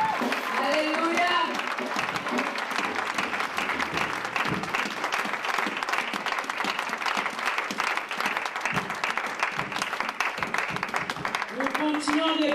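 Church congregation applauding and cheering for the king during a French-language service, loud sustained clapping with crowd voices and shouts running throughout, a sung or spoken voice surfacing briefly at the start and end.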